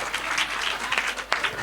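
Audience at a school annual function applauds in a steady burst of clapping, fairly close and dense, with a brief louder spike near the end and no speech over it.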